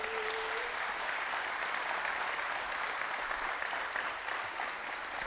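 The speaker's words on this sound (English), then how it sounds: "let's give him a round of applause" Sustained applause from an audience at an American Legion Boys' State New York gathering, a dense, even wash of many hands clapping throughout, fairly distant and steady.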